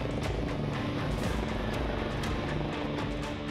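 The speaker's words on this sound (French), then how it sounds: "Nos équipes réceptionnaient les big bags que lui amenait l'hélicoptère." Helicopter hovering and maneuvering over a windy worksite on a viaduct, ferrying big bags to crews below; a steady, loud rotor roar with chopping pulses, continuous throughout.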